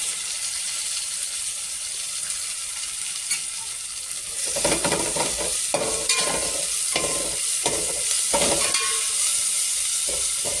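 Chopped dill leaves sizzle steadily in a hot frying pan, with a stirring spoon scraping and clattering in uneven strokes from about the midpoint, loud and close with no talk.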